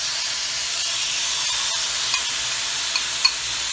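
Marinated chicken cooks in a non-stick pan without oil, producing an even, hissing sizzle with a few soft clicks of stirring and no voices.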